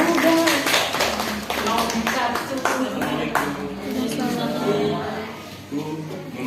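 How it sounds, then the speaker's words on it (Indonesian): A class applauds during a teaching practice lesson with scattered, close clapping mixed with children's voices and chatter, fairly busy and uneven rather than a single crisp burst. "Oke, tepuk tangan."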